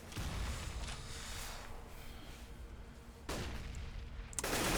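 Gunfire in Counter-Strike on the Overpass map during a tournament match: dense, continuous rattling fire with a louder burst near the end, heard without commentary over it.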